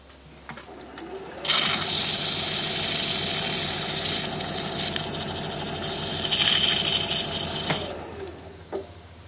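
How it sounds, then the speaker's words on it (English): Sandpaper held against the spinning edge of a box elder wood piece on a lathe gives a steady, loud whirring hiss over the motor hum, starting abruptly and stopping after about six seconds. "I'm just going to hit this edge here with some sandpaper, smooth it out a little bit"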